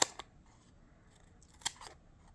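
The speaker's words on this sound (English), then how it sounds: "So I'm going to just do some little cutting here." Scissors snip through foam dimensional adhesive pieces for a pop-up card, a sharp cut at the start and another a second and a half later, close and alone in a quiet room.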